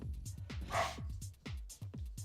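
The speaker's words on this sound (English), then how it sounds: "that is dog in background" A dog barks repeatedly in the background, a string of faint, quick yips and barks at an uneven pace.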